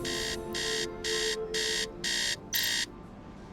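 A synthetic alarm in the game Tales of the Neon Sea beeps in six evenly spaced bursts over a steady electronic hum, loud and close, with no talking.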